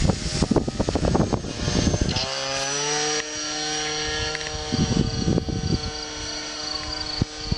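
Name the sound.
small airplane flying overhead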